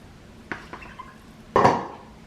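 A non-stick Caraway baking pan is handled in a kitchen, giving a few close metallic clinks followed by a louder clatter near the end, with no talking.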